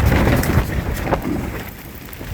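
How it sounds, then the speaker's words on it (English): Wind buffeting the microphone and sideways rain at a creekside camp, a rough, gusty rush with patter of rain that eases slightly toward the end. "It's been raining. Weird sideways rain and wind."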